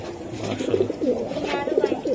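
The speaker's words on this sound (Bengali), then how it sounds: "এটা ডিমে আছে কবুতরটা এই যে অলরেডি ডাকতেছে" A racing pigeon sitting on eggs coos in low, repeated throaty rolls, close and fairly loud over a faint background of other birds.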